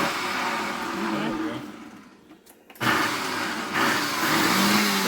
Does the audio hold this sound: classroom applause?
no